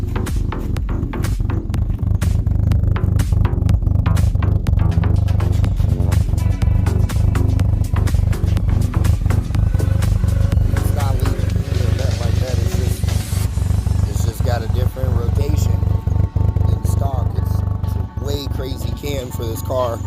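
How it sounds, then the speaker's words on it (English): A Mazda Protege5 with stage 1.5 performance cams and a manual swap idles steadily, its engine thumping in an uneven, loping rhythm, close and continuous. "And you can hear the lope in the cams."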